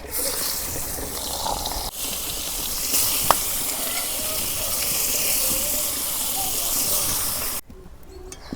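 A fish head frying in hot oil gives a steady loud sizzle and hiss for several seconds, close up, easing abruptly near the end.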